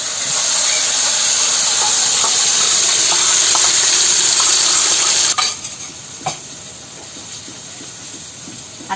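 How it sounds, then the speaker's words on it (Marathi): Ground cashew and onion paste goes into a hot pan of oil, giving a steady loud sizzle and hiss with stirring that drops abruptly to quieter, softer frying about halfway through. "आता आपण त्याच्यामध्ये आहे ना ही वाटलेली पेस्ट टाकूया काजू आणि कांद्याची."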